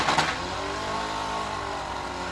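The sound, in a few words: damaged mini-car engine revving at destruction derby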